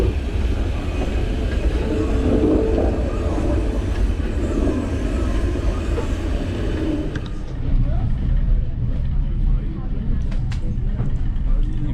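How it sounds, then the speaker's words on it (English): Continuous rumble and rattle of a steam train ride into Grosmont, wheels rolling steadily on track, with people talking over the noise. "So that was a little ride on the steam train with me and my lad."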